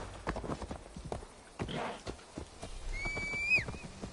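A horse in Assassin's Creed Valhalla neighs after being struck, a rising whinny standing out late over steady clip-clop hoofbeats and mixed game ambience.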